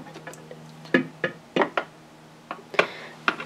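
Small plastic doors on a Canterlot High School dance toy playset from Equestria Girls Minis shut hard. They make a series of sharp, close clacks and knocks at irregular intervals, with no voices.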